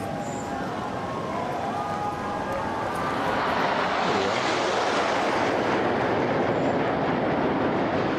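Military jets trailing red, white and blue smoke fly past over Holyrood in Edinburgh during a thanksgiving service for King Charles, a broad rumbling roar that swells after a few seconds and stays loud and sustained to the end.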